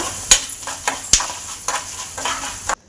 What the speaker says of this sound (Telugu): తర్వాత మినపప్పు, మొత్తం ధనియాలు, జీలకర్ర వేసుకొని ఫ్రై చేసుకొని